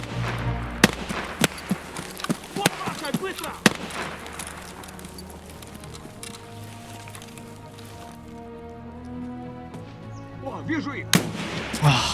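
A sniper rifle and other gunfire sound in an Escape from Tarkov match near a sawmill, with a series of sharp cracks, some near and loud, some fainter, and a quieter lull in the middle as someone talks.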